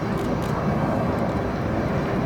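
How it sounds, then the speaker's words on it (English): A C-17 Globemaster III transport jet flying an air show demonstration with a KC-135, giving a steady, loud, broadband jet roar that holds constant throughout without a break. "As you can see, the C-17 is extremely maneuverable, both high and low speeds"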